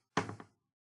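A knock at the door interrupts an indoor talk: a short burst of about two or three close, quick raps within half a second, followed by silence.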